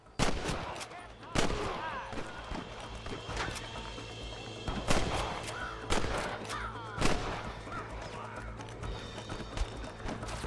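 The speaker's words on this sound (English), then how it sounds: "Fire at will, boy!" Gunfire in the Red Dead Redemption video game, several sharp, loud shots spaced a second or two apart over a background of game ambience, with horse sounds and occasional voices mixed in.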